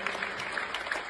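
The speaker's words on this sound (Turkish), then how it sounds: "Alkışlarla." Audience applause at a gathering as guests are called up, a steady spread of many hands clapping throughout, moderately quiet and continuous with no voices over it.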